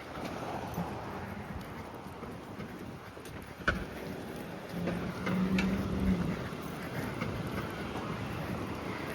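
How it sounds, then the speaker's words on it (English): Steady rain patters outdoors amid a low rumble of passing traffic and faint background noise, with an occasional sharp knock. "I didn't think it was gonna rain, but apparently it is."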